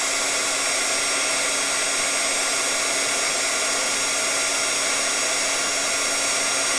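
A heat embossing tool blows hot air onto embossing powder on paper, giving a loud, steady, unbroken whir and rush of air that holds from start to finish.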